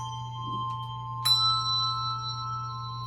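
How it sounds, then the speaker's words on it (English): A handbell is struck once and left undamped, its bright metallic tone ringing on and slowly fading over a steady low hum. "you keep the bell suspended and don't damp, so the sound carries on until the next LV"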